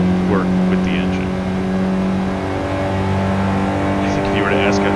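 A 2026 Honda Prelude hybrid engine revs on a California highway, giving a steady, loud drone with layered engine tones and road noise throughout, while a voice talks over it.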